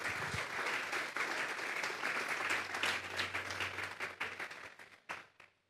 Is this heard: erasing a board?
no